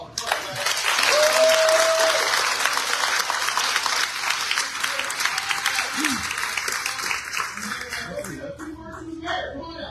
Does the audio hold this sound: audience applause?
yes